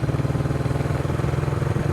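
A vintage Honda CB360 motorcycle engine rumbles steadily at close range, holding a low, even revving throb with a faint mechanical clatter and no talking, the clutch worked in and out.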